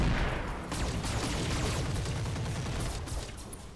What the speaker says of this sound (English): Let's just fire everything on this guy's right side.